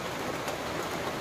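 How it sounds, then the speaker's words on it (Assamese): Rain falling over dry fields in rural Assam during the rainy season, a soft, even patter with a faint, continuous wash and no voices. "লাহে লাহে বৰষুণ যাক একদম বহুত ডাঙৰ হ'বলৈ ধৰিছে, লাহে লাহে ডাঙৰ হৈ গৈছে।"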